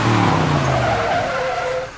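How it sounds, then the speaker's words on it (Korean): A Ford Mustang roars past with loud exhaust while its tires squeal through a drift, a close, intense burst of engine and screeching rubber that fades slightly at the end, in a film car chase near an airfield. "머스탱이 엄청난 배기음을 내뿜으며 달립니다"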